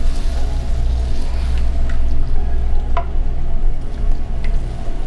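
Chunky tomatoes fry in a pan for pasta with a steady, close sizzle, low rumbling bubbling underneath and a few faint drips and clicks.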